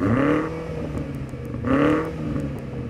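A BMW M8 Gran Coupe with sports exhaust revs twice from idle, each rising snarl snapping back down, with a steady idle rumble between the two blips, close and loud.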